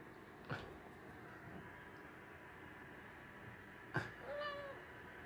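A pet cat gives two short meows a few seconds apart, quiet and close against a low background hiss, the second call rising and wavering slightly longer than the first.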